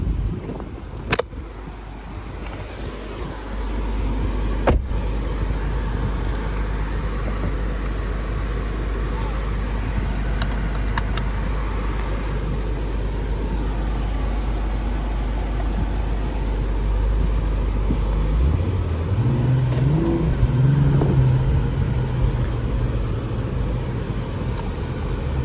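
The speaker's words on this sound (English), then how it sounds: "I'm gonna let y'all hear that exhaust." Acura TLX Type S engine and exhaust heard from inside the car while driving in traffic, a steady low drone that rises in pitch toward the end as it accelerates, with road noise underneath.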